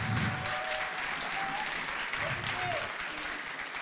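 A church congregation applauds steadily in a dense, sustained wash of clapping with some cheering voices mixed in, fairly loud throughout.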